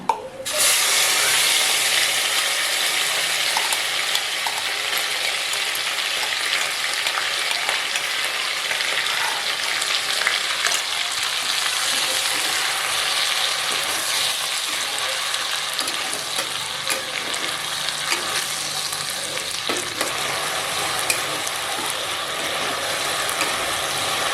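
Spice paste sizzles steadily in a pan with two bay leaves as it is lightly fried for a fish-head muri ghonto, a loud continuous hiss with faint stirring scrapes throughout.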